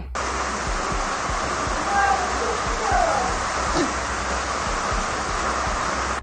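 A heavy downpour floods the streets of Odesa, a steady, loud rushing hiss of rain and running water that holds level throughout with no voices.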